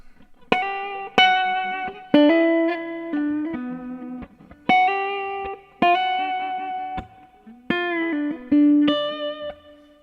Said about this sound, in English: Or you can go and put a little overdrive on a distortion and play the lead lines.